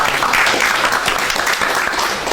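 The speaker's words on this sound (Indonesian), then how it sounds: "Tepuk tangan dulu." Applause from a small audience at an animation-department podcast at a vocational high school, a brief burst of clapping that fills the room on its own, without talk.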